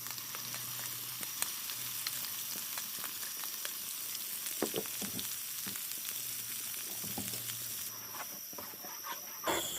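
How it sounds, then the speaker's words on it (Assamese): Ground spice paste sizzles steadily in hot oil in a pan for soybean curry, a soft continuous frying hiss with scattered clicks of a utensil. "এতিয়া পেষ্ট কৰা মছলাটো বহাই দিম"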